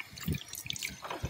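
Fresh mountain water trickling and dripping from a town fountain in Lucca, with soft splashes and drips close by, quiet overall, no talking.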